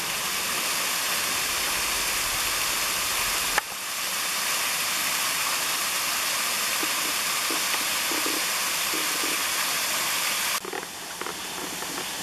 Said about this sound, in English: It's another little waterfall.